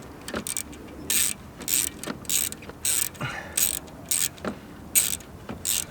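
A ratchet loosens an 8mm bolt on a Renault Megane RS 250, giving about a dozen bright bursts of rapid clicking in an uneven rhythm. The sound is close and fairly loud, with no talk.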